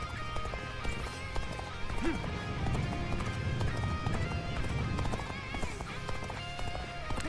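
Hoofbeats clip-clop in a steady galloping rhythm in the Dynasty Warriors: Origins video game, with a horse neighing and whinnying over dense battle noise and game music throughout.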